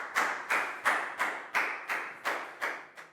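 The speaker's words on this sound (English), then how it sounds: "High five and a big round of applause for Net, please, guys." A Year 4 class claps for a classmate in an even, deliberate rhythm of about eight sharp claps spaced roughly a third of a second apart, close and clear with no talking.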